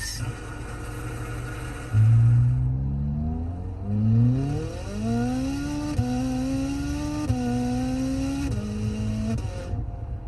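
Simulated Ferrari Enzo engine sound from a car head unit app: a loud synthetic engine roar that revs up repeatedly in rising sweeps, each gear climbing in pitch before dropping and rising again.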